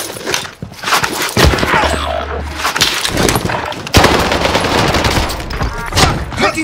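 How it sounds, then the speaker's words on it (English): Dense, loud machine-gun fire in Call of Duty Warzone on the Pacific Caldera map rattles almost continuously, with heavier bursts and a sharp boom-like hit, and no voices. "Taking fire!"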